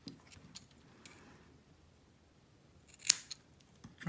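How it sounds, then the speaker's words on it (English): Scissors snipping coil leads on an Aromamizer Plus RDTA vape deck: a single sharp, close snip stands out after quiet handling noises, no talk. "And then we're going to cut them"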